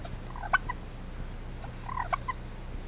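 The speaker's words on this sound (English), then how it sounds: "There's another young turkey hen." Faint turkey gobbles come in a couple of short warbling bursts, separated by a pause, against quiet outdoor garden background noise.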